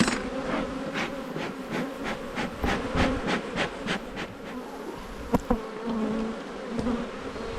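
Honey bees buzzing loudly and steadily at an open hive during a spring colony inspection, a dense continuous drone with occasional faint knocks and clicks close by.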